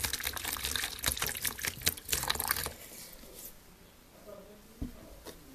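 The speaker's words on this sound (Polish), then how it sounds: "Nasze doświadczenie rozpoczniemy od przelania do miseczki wody destylowanej." Distilled water is poured into a small bowl with a loud, splashy trickle for about two and a half seconds, then quiet with a few faint drips and a soft tap near the end.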